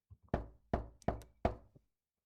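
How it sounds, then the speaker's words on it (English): Five sharp knocks on a door, close and distinct, rapping in an uneven rhythm with a short gap before the final soft tap; no voices. "Knock, knock, knock, knock, knock."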